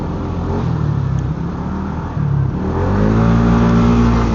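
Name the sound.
road traffic with many motorcycles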